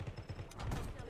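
Rapid gunfire in the Call of Duty video game crackles in quick bursts under a voice talking over it through the whole short stretch.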